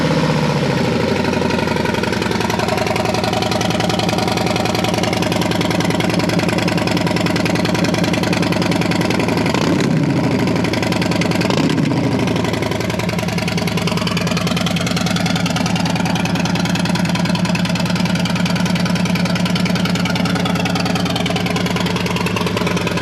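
Harley-Davidson FXLRST motorcycle engine idling after a warm start, a loud, steady, close rumble with a low throb that holds throughout, briefly dipping around the middle before settling back.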